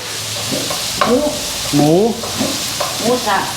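Pork drops into hot oil with browned garlic and sizzles steadily in the pan, stirred now and then, while a voice talks over the frying.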